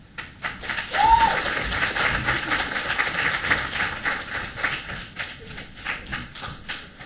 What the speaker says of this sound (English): Round of applause for Johnny, please.